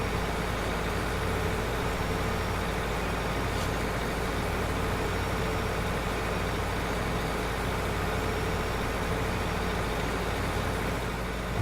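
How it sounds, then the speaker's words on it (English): A tractor in Farming Simulator 2015 crawls along slowly while pulling a small seed drill, giving a steady, unbroken engine drone with a heavy low rumble that holds at an even level throughout, with no talk over it. "Very small, and the tractor is going very slowly as well."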